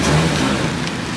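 Honda EG hatchback engine revving hard with the clutch dumped in reverse, a steady loud mid-low roar held throughout with no talk over it.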